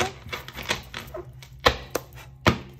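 Tarot cards are drawn and laid down in a series of sharp, irregular clicks and taps, with a few louder snaps standing out against a quiet room.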